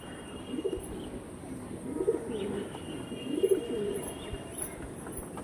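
Pigeons cooing in soft, low, rolling bursts, with two clearer coos standing out over a quiet background hum and a few faint chirps.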